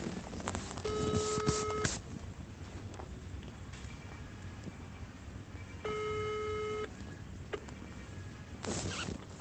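A telephone ringback tone sounds while a call is being connected on a phone line. Two clear, steady electronic ringing bursts are separated by a few seconds of low line hiss, with no talking.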